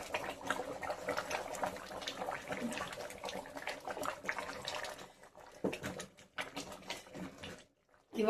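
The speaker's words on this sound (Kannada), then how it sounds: "ಇವಾಗ ಅನ್ನ ಬೇಯಲಿ ಸ್ವಲ್ಪ, 1-5 ನಿಮಿಷ." Rice boils in water in a pot for chicken biryani, giving an irregular, fairly quiet bubbling patter that thins out and breaks into brief pauses toward the end.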